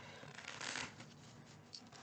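Tarot cards shuffled by hand, a quick run of papery riffling and flicking bursts that peaks early, then softer handling with one more short flick near the end, close up and with no talk.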